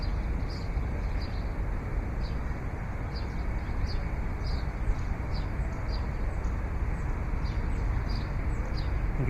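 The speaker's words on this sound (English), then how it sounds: "You can hear the birds." Faint, high chirps repeat every half second or so over a dense, constant outdoor roar, like distant birds calling above steady background noise.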